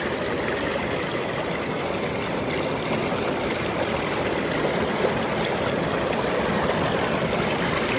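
Water running steadily through a gold-prospecting sluice box outdoors, a constant close rushing and trickling wash with no break over the full length.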